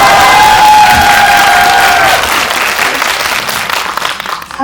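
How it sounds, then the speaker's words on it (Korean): Audience applause and cheering fill a Korean film screening talk at a CGV cinema, steady and dense throughout, with a bright tone lingering early and the clapping tapering slightly toward the end. "그럼 저한테 박수 한번 주세요."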